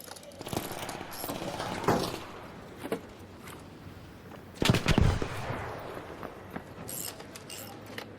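Video-game gunfire in ARC Raiders aimed at the player, with scattered sharp shots and a heavier burst near the middle over a busy background of game noise.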